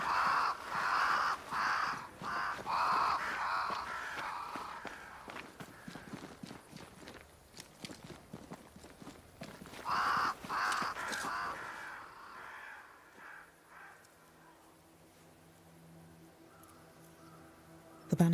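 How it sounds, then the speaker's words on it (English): Crows cawing in the video game Banishers: Ghosts of New Eden, several harsh calls repeating in bursts over a bed of ambient game sound and clopping, fading to a quieter hum near the end. "Crows. They flock to that great tree up there."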